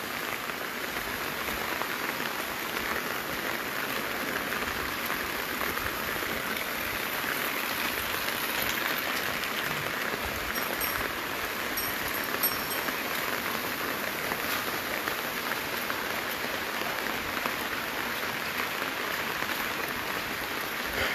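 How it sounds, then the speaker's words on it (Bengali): Heavy morning rain pours onto a flooded street in Noapara, a dense, steady hiss of drops hitting water and surfaces that continues unbroken at an even loudness. "একেবারে ফজরের পর থেকেই চলছে বৃষ্টি।"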